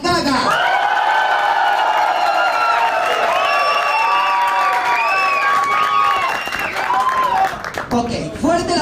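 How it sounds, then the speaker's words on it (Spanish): A studio audience at an impersonation contest semifinal cheers and claps loudly for a Lady Gaga impersonator, with sustained whoops and shouted voices riding over dense applause that fades near the end. "Fuerte el aplauso para Lady Gaga."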